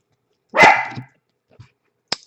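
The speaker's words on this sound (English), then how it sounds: "They are barking pretty loud." A single loud, close dog bark rings out alone, followed by a couple of faint, short, softer sounds after it.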